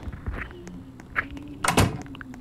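A door opening in the Roblox video game, heard as a few short thunks and clunks ending in a louder knock-like impact, close and brief.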